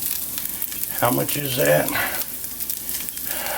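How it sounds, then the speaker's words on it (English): Sausage sizzles and spits steadily in a hot pan, a constant crackling hiss running throughout while a person speaks briefly over it. "This sausage gets hot enough, it starts trying to jump out of the pan."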